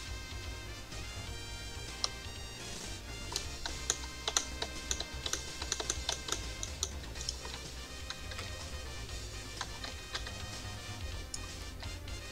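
Steady typing on a computer keyboard, a quiet run of fast key clicks with a few louder taps, close and alone without talk.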